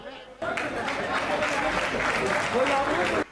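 An audience at a Hindi comedy poetry gathering claps in a sustained burst of applause for about three seconds, fairly close, with some chatter mixed in.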